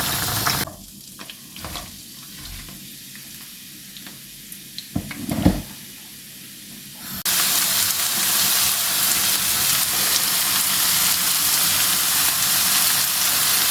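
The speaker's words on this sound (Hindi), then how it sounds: "भिंडी का एक हिस्सा मेरा फ्राई हो चुका है। इसको मैं निकाल के बाकी का हिस्सा फ्राई कर लूँगी।" Okra (bhindi) frying in a pan with masala gives a steady, loud sizzle and hiss that swells suddenly partway through. Quieter stirring and scraping clinks come first.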